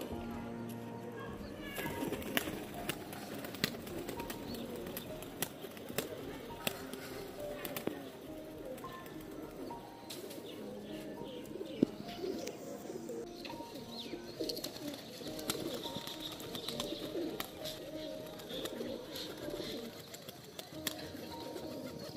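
Pigeons coo in soft, repeated low calls close by, with occasional wing flaps and people talking over them throughout.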